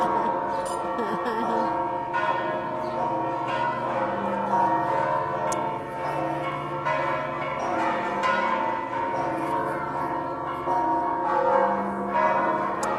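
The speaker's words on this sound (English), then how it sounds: "there's the high noon bells" Church bells in San Miguel de Allende peal at noon, with several ringing tones overlapping in a continuous, reverberant clangor, moderately loud and steady, with faint background murmur.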